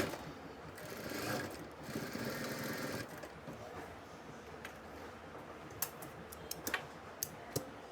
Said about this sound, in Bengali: এইভাবে কিন্তু আমাদের পুরাটা সেলাই দিয়ে দিতে হবে